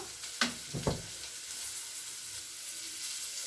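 Prawns fry in a pan with chili powder and a pinch of turmeric, giving a steady soft sizzle throughout, broken early by two brief louder clatters of stirring.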